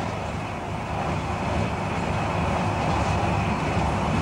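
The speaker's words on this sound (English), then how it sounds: "it's been tried and tested in the new advanced passenger train, the APT" The Advanced Passenger Train, a 1982 British tilting train, travels at speed with a steady, loud rumble and broadband rush that holds for several seconds, with no voices.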